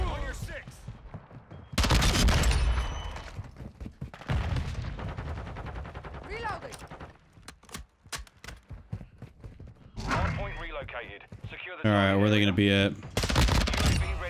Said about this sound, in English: Is there someone above me that was firing?